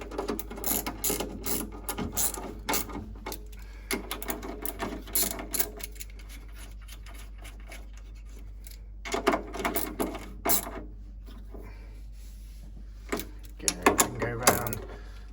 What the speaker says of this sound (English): now we'll just go around and tighten these up like so